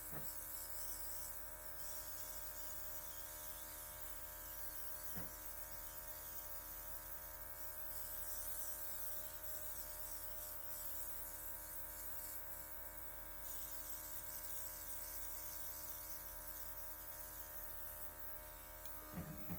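Luminess airbrush spraying makeup, a continuous steady motor buzz with a hiss of spray running unbroken and close throughout.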